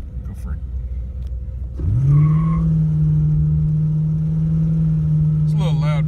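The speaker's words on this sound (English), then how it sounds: "It's a little loud because I got an open air filter on it." A 1978 Dodge Diplomat engine with an open air filter idles, then revs up into a loud steady drone held for several seconds, close by, with a brief voice at the start.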